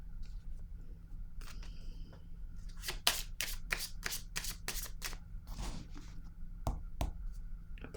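Tarot cards being handled and drawn for a Scorpio reading, with quiet rustling followed by a run of crisp, rapid shuffling flicks in a close, hushed room, no talk.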